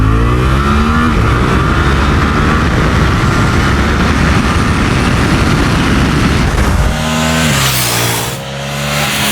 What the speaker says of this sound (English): Let me show you a quick 0 to 60 test on this machine and maybe some other flyby footage.